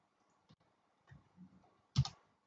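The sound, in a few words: typing an Nmap command on a computer keyboard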